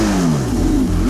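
A Porsche 918 Spyder's 4.6-liter V8, paired with two electric motors, revs hard and close, a loud continuous roar whose pitch climbs and dips with no talk over it.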